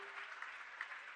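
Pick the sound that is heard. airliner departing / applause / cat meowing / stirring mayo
applause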